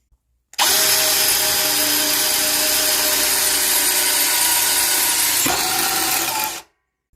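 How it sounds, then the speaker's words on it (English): A loud power drill whines steadily for about six seconds as a hole saw cuts through metal, with a brief catch near the end before it stops. "Now we should be able to drill this as fast as we want without breaking this bit."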